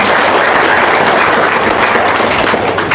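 An audience breaks into a thick, continuous burst of applause, loud and close, sustained evenly throughout with no talk over it.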